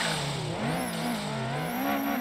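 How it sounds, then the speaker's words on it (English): Race cars in the video game Assetto Corsa pass by with a continuous, loud engine drone that rises and falls in pitch as they sweep past, with a steady whine and tire noise throughout. "And we'll just let the cars come by."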